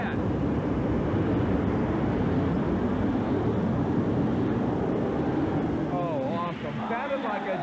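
A loud, continuous turbine roar like a jet engine from a twin-turbine pulling tractor at a tractor pull, steady and powerful throughout, easing slightly near the end as a voice begins speaking.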